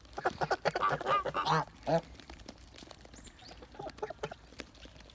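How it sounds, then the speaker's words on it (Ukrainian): Kholmogory geese honk and gabble in a loud burst of harsh calls, then quieter scattered honks follow nearby. "Ну це гусак це точно."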